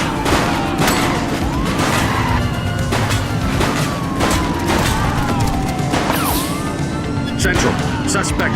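Sustained gunfire fills a police shootout in the video game The Precinct, with dense rapid shots and sharp cracks repeating throughout, heavy crashes and booms mixed in, and a steady loud action din beneath.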